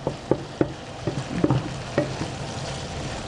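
Lemon garlic shrimp frying in a pan: a steady close sizzle broken by a few sharp clacks and scrapes of stirring.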